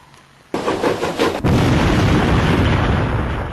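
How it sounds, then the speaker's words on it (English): A model explosion goes off with a sudden loud burst, and a second blast follows about a second later. A sustained roaring hiss from the burning fireworks fuse then continues at close range, with no voices. "Here we can see some fireworks fuse burning just to give some smoke after the main explosion."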